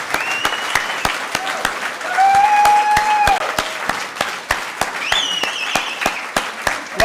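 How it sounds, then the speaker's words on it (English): An audience at a Sunday gathering applauds, dense continuous clapping with a few whoops and cheers rising over it for several seconds. "Let's give another round of applause."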